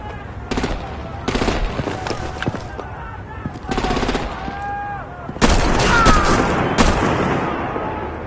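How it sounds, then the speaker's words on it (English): Video game combat in a Batman title, with bursts of automatic gunfire and artillery fire, loud rapid volleys in several separate bursts, the last a sustained heavy barrage, with occasional tonal game effects between them. "break out the artillery and disable their vehicles!"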